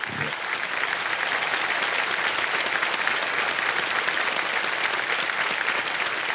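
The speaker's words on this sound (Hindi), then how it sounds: "तालियां बजाएं।" A large television game-show studio audience claps continuously, a dense, even roar of applause that swells quickly and holds for several seconds.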